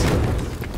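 Short, muffled grenade blast in Halo 5, a dull low boom with a thud that fades quickly over less than a second.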